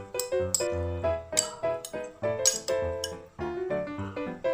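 Korean glass noodles mixed with soy sauce, sesame oil and sugar for japchae: a rapid series of bright, ringing clinks from utensils against a bowl, close and rhythmic, with no voices.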